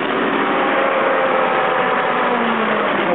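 A 1947 Jaeger 105 compressor engine running at a steady idle, a loud, continuous close chugging drone with no pauses and no voices.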